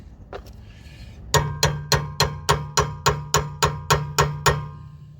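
Steel chisel struck repeatedly with a hammer against a Volvo rear trailing arm bush, about a dozen sharp, evenly spaced metallic clangs close by, following a brief faint scrape.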